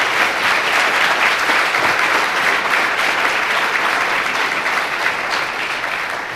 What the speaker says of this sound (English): If you all will give a round of applause to this expert panel.